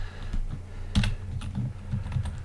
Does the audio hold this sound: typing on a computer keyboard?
yes